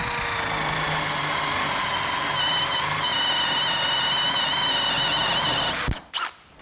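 A Bosch GSB 185 LI cordless brushless hammer drill bores with a 16 mm spade bit, giving a loud, close, sustained motor whine for about six seconds before abruptly stopping with a brief clatter.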